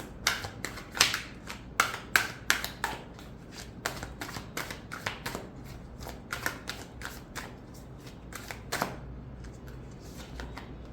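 Tarot cards being shuffled and drawn at close range, a run of crisp riffling bursts and sharp card snaps in irregular rhythm over a quiet background, without speech.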